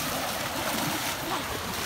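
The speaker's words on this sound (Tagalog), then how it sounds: "Pag-aspas ng tubig." Steady broadband rush of choppy river water splashing close by on the Palupyas River, continuous and fairly loud with no voices.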